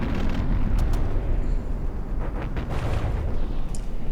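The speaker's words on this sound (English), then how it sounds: "Oh, another big explosion. I think that was on me. Some ammo going up here." A large ammunition explosion aboard a battleship in a naval combat video game, a loud, dense rumbling blast that roars continuously through the clip with scattered sharper cracks and pops.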